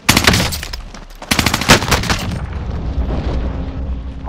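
Rapid machine-gun bursts and heavy explosions erupt loud and close in Call of Duty: Modern Warfare combat, with sharp volleys at the start, a lull, then more bursts trailing into rumbling aftermath.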